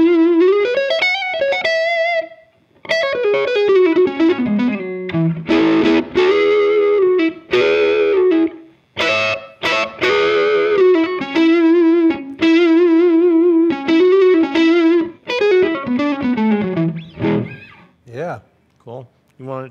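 Distorted electric guitar through a VOX AC30 valve amp playing melodic lead phrases with bends and vibrato, loud and close, with short pauses between licks.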